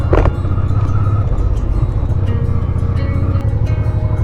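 A motorcycle rides along a road with a loud, continuous low engine drone and rushing wind noise, heard close throughout.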